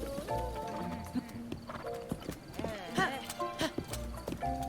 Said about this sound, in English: So let me go quickly get my horse.